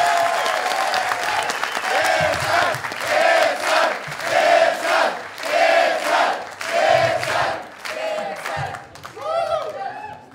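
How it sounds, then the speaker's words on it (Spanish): Loud crowd applause and cheering at a live comedy roast, with rhythmic surging claps and shouted voices rising in waves, a chanting or whooping crowd close by. "¡Fuerte el aplauso, chingado!"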